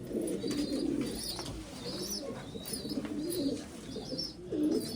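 Pigeons coo in a loft with new nest boxes holding breeding pairs and young, giving steady low cooing with a few soft chirps at moderate volume, close by and with no talk.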